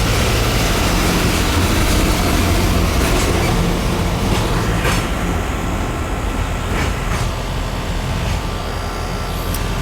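Air conditioner compressor running after start-up, a loud, steady mechanical roar and drone that holds nearly constant throughout, heard up close with a few faint metallic ticks.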